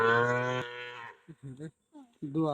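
A village cow lets out a loud, long moo up close, followed by a few shorter, quieter calls or voices.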